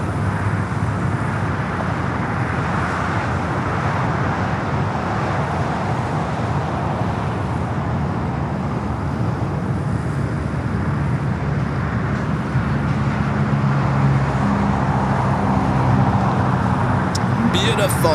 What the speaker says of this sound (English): Flight 101 coming from Seoul. This 5-year-old 787-9 Dreamliner